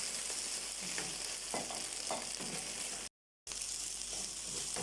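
Okra sizzling and frying in oil on a tray, a steady dense crackle with occasional louder spits and stirring scrapes, close and alone, cut by a brief dropout.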